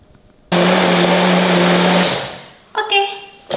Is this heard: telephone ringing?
no